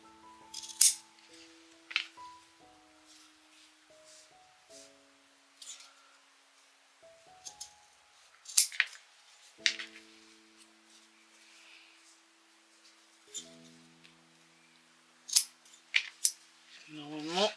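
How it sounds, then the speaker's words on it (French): Scissors cutting fabric belt loops for Burda 04/2024 trousers 109: a handful of sharp, separate snips spaced several seconds apart, close and crisp, over quiet sustained tones in the background. "il faut que je coupe des passants de 9 cm"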